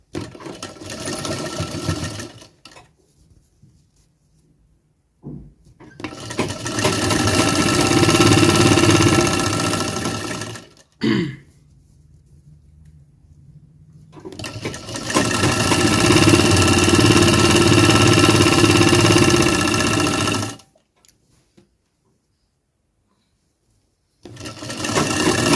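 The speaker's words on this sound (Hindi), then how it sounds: "फिर हम आसन की सिलाई मार लेंगे" Tailor's sewing machine stitching the seat seam of a garment, in two long steady whirring runs of about five seconds each separated by quiet pauses, with short bursts at the edges and no talking during the runs.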